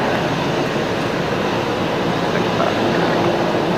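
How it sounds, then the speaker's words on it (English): A Qantas airliner from Wellington touches down on runway 19 left at Brisbane Airport, heard as a broad, steady roar of engines and rushing air at a moderate distance, with no talk over it. "The Qantas service from Wellington, Qantas 196 just touched down behind here on 19 left."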